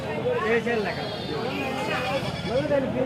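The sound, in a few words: goats bleating at a livestock market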